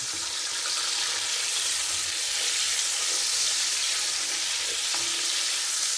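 Carrots and onions frying with thick bacon lardons for a pig's trotter civet, a continuous close sizzle and bright hiss with a few faint stirring clicks, no voices.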